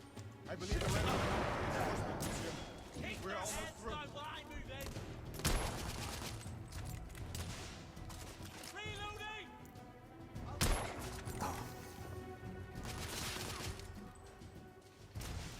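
Gunfire in a firefight in The Order 1886, with bursts and volleys of shots, some heavy thumps, running through the whole stretch under a game soundtrack while players talk.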